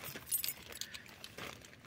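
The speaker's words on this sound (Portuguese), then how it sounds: "Deixa eu pegar a chave aqui." Keys for the ignition cylinder of a Fiat Palio jangle softly for a moment, a few light metallic clinks close by in an otherwise quiet space.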